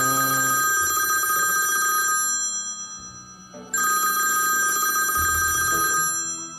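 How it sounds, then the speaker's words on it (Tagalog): A telephone in a Philippine variety-show comedy skit rings in two long bursts of a bright electronic ringtone separated by a brief gap, loud and close with no talking over it. "Kuya Alden, telepono po."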